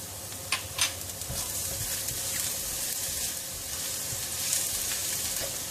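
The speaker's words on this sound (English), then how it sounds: "I'm going to put in this 3 cloves of garlic chopped." Three cloves of chopped garlic frying in a pan of very hot cooking oil, a steady close sizzle that holds for several seconds, with a couple of faint clinks and no voices.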